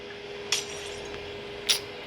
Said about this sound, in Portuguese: Por que eu quebrei aquele vidro?